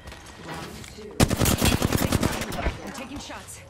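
Weapons firing in the battle royale shooter Apex Legends: after a quieter stretch with some talk, a sudden loud burst of rapid automatic shots rattles on, then tapers into scattered fire.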